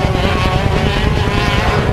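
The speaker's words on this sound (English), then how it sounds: "he's stretching the legs on this long straightaway of this Vortex engine, slides it into turn number 1" A racing kart with a Vortex engine screams flat out down a long straightaway at the Australian CIK karting championship in Geelong, a loud, steady, buzzing high-revving whine with no pauses.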